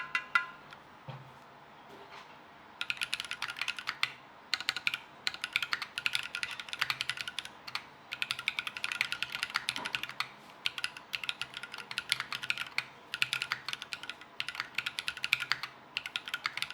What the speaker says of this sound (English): it sounds a bit like you're typing on your desk while you're stuck in a giant metal box.